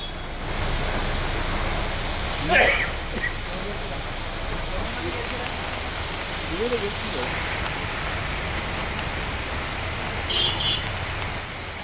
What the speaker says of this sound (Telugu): సికింద్రాబాద్, బోయిన్పల్లి, బొల్లారం, తిరుమలగిరి, మారేడుపల్లి, తుకారాం గేట్, అడ్డగుట్ట, మెట్టుగూడ, చిలకలగూడ, రాణిగంజ్ తదితర ప్రాంతాల్లో భారీ వర్షం కురుస్తోంది.